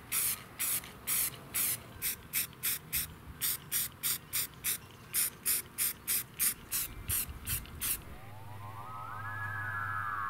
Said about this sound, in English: This keeps the screw heads in the air for when I spray paint them. I use Rust-Oleum Flat Black.